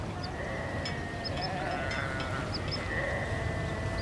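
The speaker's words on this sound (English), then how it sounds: "Even the gentle sound of sheep unnerves the cautious bird." Faint sheep bleats rise and fall a few times over a soft outdoor background in Tara Canyon, distant and gentle.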